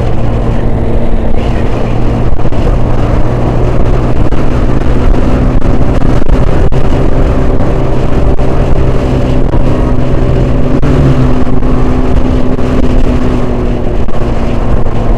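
A Palala bus drives at high speed, its engine a steady, loud drone with wind rush and road roar continuing without a break.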